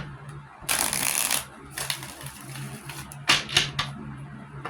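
Tarot cards shuffled close by in several brisk riffling bursts with soft taps and slaps between them, quiet room, no speech.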